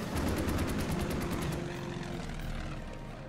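Boulton Paul Defiant fighter plane engines from the Order of Battle Battle of Britain strategy game, a loud, continuous propeller drone with a rhythmic pulsing beat that fades slightly toward the end, with no talking.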